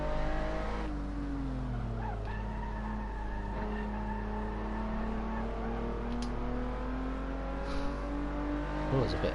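A race car engine and gearbox in the Assetto Corsa racing video game whine continuously, the revs rising and falling through gear changes, with brief tire squeal and occasional clunks, loud and close throughout.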